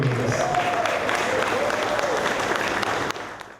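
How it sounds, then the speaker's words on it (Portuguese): A studio audience at a television show breaks into warm, dense applause with a faint tonal sound beneath, holding steady before cutting off abruptly. "Nossos mais calorosos aplausos!"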